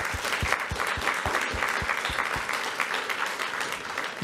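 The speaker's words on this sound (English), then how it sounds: "Another round of applause." An audience at a talk on living with intelligent machines applauds, a dense, steady roomful of clapping with a few louder close claps at the start, sustained without voices.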